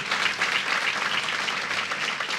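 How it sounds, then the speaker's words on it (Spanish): Worshippers at a church service give a warm round of applause to the Lord, a thick, continuous wash of many hands clapping at steady volume with no voices over it. "Dele ese aplauso bien lindo al Señor."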